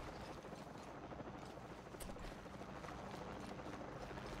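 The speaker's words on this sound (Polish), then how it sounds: "Helikopter." A helicopter in the video game Shadow of the Tomb Raider, its steady rotor roar filling the scene as a dense, continuous wash without pauses.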